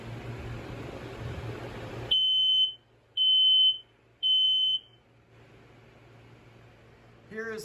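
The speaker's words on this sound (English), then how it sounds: "Here is the FireX floaty electric alarm." A FireX floaty electric smoke alarm sounds three loud, shrill beeps at an even pace, each about half a second long. They cut through a room's steady background hiss, with a faint click near the end.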